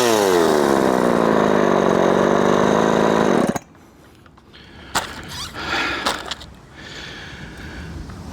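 A Husqvarna 357xp chainsaw with a freshly tuned carburetor revs at a loud, high, buzzing pitch for a few seconds, then cuts off abruptly. Quieter clanks and handling noises follow.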